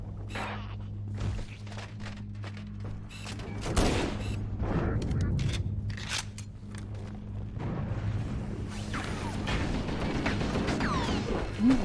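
Hunters fire their arm-mounted cannons in the Halo CE Anniversary video game: bursts of heavy blasts and crashing explosions come at irregular intervals amid mechanical clatter and a low steady hum, loud and close, with occasional voices.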